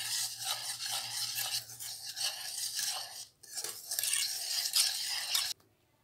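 Butter and sugar being whisked together for shortbread cookie dough, a steady close scraping and rubbing with quick rhythmic strokes that stop abruptly near the end.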